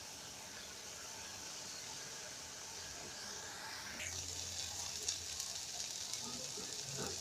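Taro leaves and small fish being stirred in a pan as the water cooks off, a steady broadband sizzle that grows a little louder and denser halfway through, with no voices.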